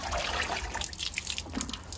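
Bonsai pot held underwater in a basin after air layer removal, giving a soft steady trickle of bubbling water with small drips, close and fairly quiet, no talk.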